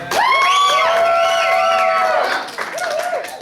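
A comedy show audience at The Paramount Theater Room bursts into loud, close whooping cheers and shouts over clapping for about two seconds, then thins out before a second shorter cheer rises near the end.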